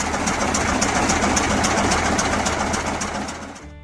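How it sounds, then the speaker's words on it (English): A Case 2040 tractor engine runs steadily in a rough, throbbing idle with a regular mechanical pulse, close and loud, then fading slightly toward the end. "the deep engine sound of the Case 2040 rings out like a labor song"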